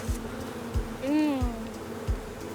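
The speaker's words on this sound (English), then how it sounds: "Let me shake the bees off." Honey bees buzzing around an open hive during honey harvesting, a steady insect drone with a brief rising buzz as one flies close, over low thumps of handling.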